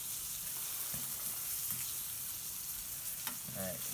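Smelts pan frying in hot oil, Cajun style, give off a steady, moderately quiet sizzle and crackle, with a few soft clinks and pan-shifting sounds as the fish are handled.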